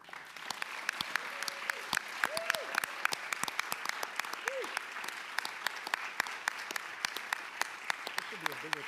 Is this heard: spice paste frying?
no